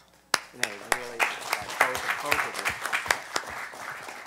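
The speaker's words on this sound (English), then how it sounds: "So I'd like to really give them both one more round of applause." A forum audience gives a round of applause after two speeches, steady indoor clapping that starts abruptly and holds under a speaker's voice.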